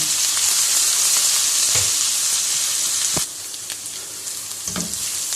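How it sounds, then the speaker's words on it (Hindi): Steady loud sizzling of ginger garlic paste frying with onions in a pan, with a few soft stirring knocks and a brief clatter, no voices. "अब इसके अंदर हम शामिल कर देंगे अदरक लहसुन का पेस्ट 1 टेबलस्पून।"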